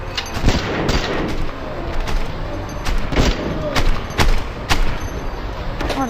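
Pistol gunshots in the VR shooter game Hard Bullet, a run of sharp, loud cracks at irregular intervals over a busy background, with a player talking in between.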